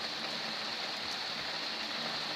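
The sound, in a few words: moderate to heavy rain falling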